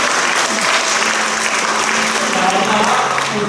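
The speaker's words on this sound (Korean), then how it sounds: "박수 한번 주세요" Sustained applause from a church congregation at an ordination service, steady and loud throughout, with faint voices mixed in.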